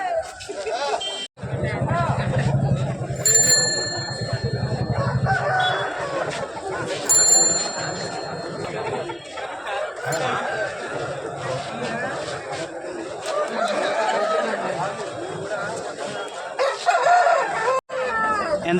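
Roosters crow nearby at a busy weekly village chicken market in Gokavaram, with hens clucking, while a crowd's babble and men bargaining over prices carry on throughout.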